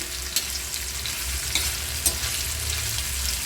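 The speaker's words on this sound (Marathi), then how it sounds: "त्यामध्ये तव्यामध्ये आपण कांदा टाकलेला आहे भाजायला" Onion roasting on a griddle over a gas flame, a steady, close hissing sizzle with a few light scrapes and taps.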